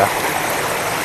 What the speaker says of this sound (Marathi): ओढा वाहतोय.